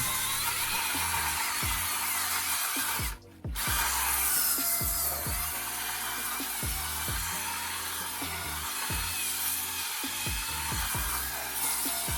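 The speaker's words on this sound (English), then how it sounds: "I'm gonna come in with my drill brush and start agitating the surface like so" A power drill brush whirs continuously, scrubbing a car floor mat with a steady rhythmic chatter, briefly stopping for a moment before resuming.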